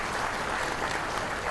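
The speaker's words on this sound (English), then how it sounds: "I really would like the people here to give a round of applause, thank you Mrs. Nair" Audience applause at a banking industry conference in India, a steady dense clatter of many hands clapping throughout, fairly loud and unbroken.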